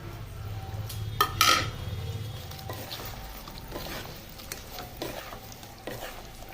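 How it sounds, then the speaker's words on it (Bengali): Pre-fried chicken stirred into chili chicken sauce in a pan makes a close, steady sizzle, with a sharp clatter of utensil on pan early on and lighter scrapes and knocks after. "এরপর যে চিকেনটাকে আমি আগে থেকে ফ্রাই করে রেখেছিলাম সেই চিকেনটার মধ্যে দিয়ে দেবো।"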